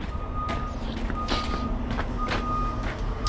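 A truck backs up at a Volvo A40G articulated hauler delivery site in Lively, Ontario, its reversing alarm beeping in a steady repeating rhythm over a low idling engine rumble.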